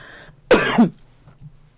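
A single sharp, loud cough bursts out after a moment of quiet, followed by faint low murmuring.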